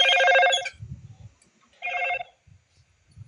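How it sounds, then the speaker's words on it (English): A notification bell rings twice, short bright chimes about a second apart, each alone in an otherwise quiet room with faint low thumps between them. "What's that bell sound?"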